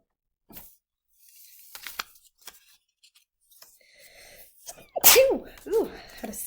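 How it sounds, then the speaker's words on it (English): A single sharp human sneeze bursts out near the mic after a stretch of soft paper-handling rustles, followed by a couple of brief breathy voiced sounds. "Ooh, had a sneeze."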